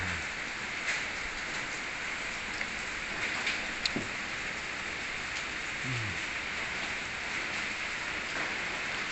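Steady, fairly quiet rain patter with a constant hiss and a few faint drips and knocks, with no voices, falling on rural farmland in Sisaket, Thailand.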